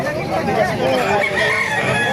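A two-year-old rooster crows loudly and close by at a market in Calumpit, Bulacan, one drawn-out call filling the whole moment over a steady background.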